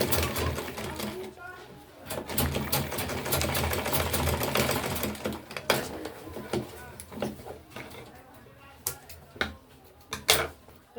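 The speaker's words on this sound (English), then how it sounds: "When you get to where there's piping, you also back stitch to keep the piping in place." Sewing machine stitching back and forth over piping on a tote bag, a fast continuous mechanical whir that slows into scattered clicks and knocks, heard close while a voice talks over it.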